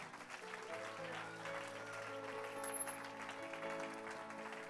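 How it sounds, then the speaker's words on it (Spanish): Church congregation applauding during a service, faint steady clapping from a distance with a sustained organ-like tone running beneath it. "Un aplauso a Cristo."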